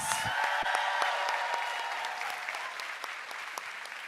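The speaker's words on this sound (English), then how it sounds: "Let's give Amy Jo Martin one more round of applause." Audience applause for a speaker at a corporate event, a fairly faint, continuous patter of many clapping hands with a few sharper individual claps standing out, slowly easing toward the end.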